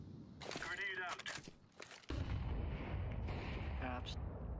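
A grenade's heavy explosive boom in Counter-Strike 2 lands with a sudden broad rumble that keeps roaring afterward, following brief bursts of voices and clatter in a busy game firefight.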